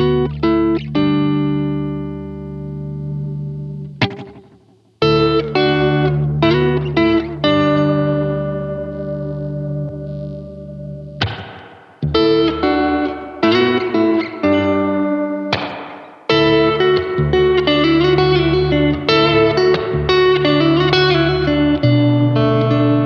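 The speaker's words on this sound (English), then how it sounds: "let's mix the oil can delay and the true spring reverb for a lively and slightly gritty texture" Electric guitar through an oil can delay and spring reverb pedal plays chords and picked phrases washed in wobbly echo repeats and springy reverb. The tone is warm and slightly gritty, with brief gaps between passages.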